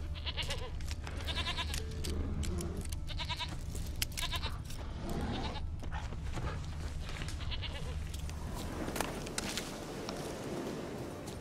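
A goat bleats repeatedly in the video game The Witcher 3: Wild Hunt, a series of nasal cries at moderate distance. Scattered footsteps and ambient game sounds fill the gaps between the calls.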